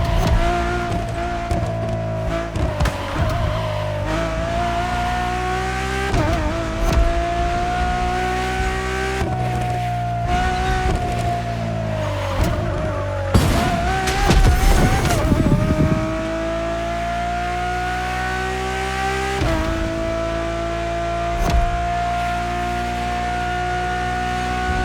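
A Ferrari road-legal Formula One car in The Crew Motorfest video game screams through high revs, its engine climbing and dropping repeatedly through gear changes with occasional tire noise, loud and close throughout.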